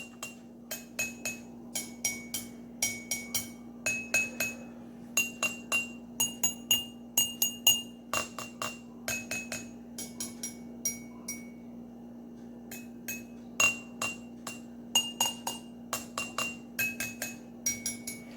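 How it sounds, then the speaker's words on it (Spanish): A glass holding liquid is tapped repeatedly with a hard utensil, producing bright ringing clinks in quick irregular bursts over a low steady hum. "Dependiendo de cuánto líquido tenga nuestro vasito, el sonido va a cambiar"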